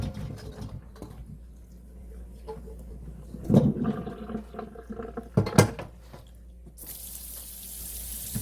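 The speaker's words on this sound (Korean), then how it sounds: "근데 이 물은 다 버리고 다시 깨끗이 한번 씻어 보도록 하겠습니다." Tap water running in a kitchen sink while parboiled pork bones for gamjatang are rinsed in cold water: a low steady flow with clattering handling of bones and pot in bursts, then a loud gushing stream near the end.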